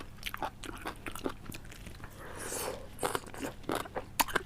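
Close, crisp crunching bites of steamed squid with wet chewing between them, a rapid series of short crackly bursts.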